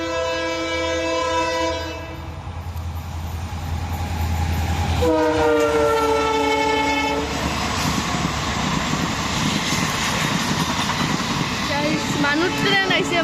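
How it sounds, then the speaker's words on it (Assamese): An arriving train sounds long, loud blaring horn blasts, then its rumbling wagons roll in with clattering noise, close by, as people talk nearby. "ট্ৰেইন আহিছে"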